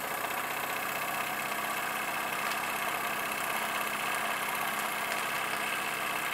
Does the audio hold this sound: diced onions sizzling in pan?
no